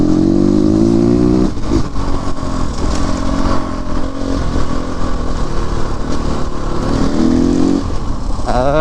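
A CrossX 300x motorcycle engine revs loudly up close, rising and falling in several surging pulls with a rough mechanical clatter between.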